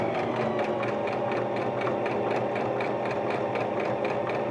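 A sewing machine stitches cotton fabric layers for a face mask, a steady rapid mechanical chatter with fast needle pulses running continuously and close, with no voices.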